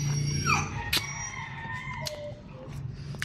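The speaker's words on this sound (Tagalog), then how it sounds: "Yun yung aso ko." A pet dog whines eagerly while waiting for food, giving a few high, drawn-out whimpers and a short howl-like cry against quiet household background sound.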